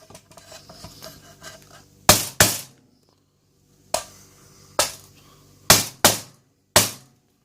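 Sharp metallic hammer blows on a coin-operated toilet lock, about seven loud clanging strikes, some in quick pairs, each ringing briefly before fading, with faint shuffling between them.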